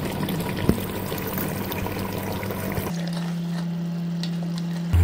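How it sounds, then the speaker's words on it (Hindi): Water is poured into a pot of fried mutton siri paye to make broth, giving a busy splashing and sizzling burst for about three seconds before it settles into a quieter steady hum. "अब मैं इसके अंदर पानी ऐड करने लगी हूँ, डाल दिया पानी।"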